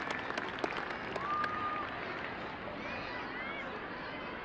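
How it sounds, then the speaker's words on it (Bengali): Audience applause at a school annual sports competition in Chittagong Cantonment, a steady wash of clapping from a crowd outdoors with a brief whistle-like tone, moderately loud and continuous throughout. "আমি এখন সকলকে করতালির মাধ্যমে তাদেরকে শুভেচ্ছা জানানোর জন্য অনুরোধ করছি"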